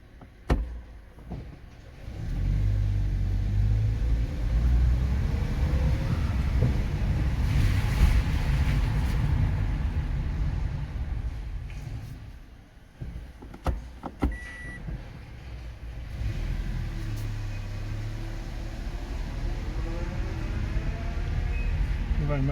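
A repaired car with a newly replaced clutch and actuator drives along steadily, a continuous low engine and road rumble with wind buffeting, easing briefly midway before picking up again.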